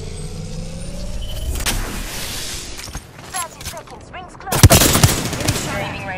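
Bursts of gunfire from the Apex Legends video game, a short volley early on and a louder, sharper cluster of shots later, with a voice talking over the battle noise.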